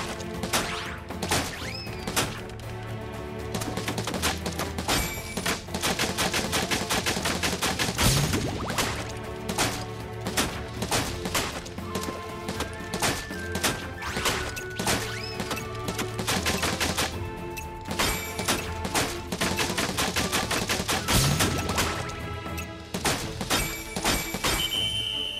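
Shooting in Final Fantasy VII Rebirth gameplay, with rapid sharp shots and impacts repeating in dense bursts over music-like tones across most of the stretch, loud and close.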